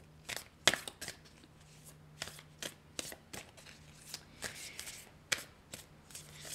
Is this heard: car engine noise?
no